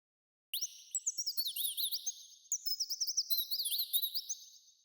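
A little bird sings a bright, high twittering song of rapid rising and falling chirps in two quick phrases, clear and close with no talking.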